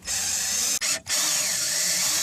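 A power drill drives screws into car sheet metal during an amplifier and subwoofer install: a steady, high-pitched whine that cuts briefly at the midpoint, then resumes at full strength.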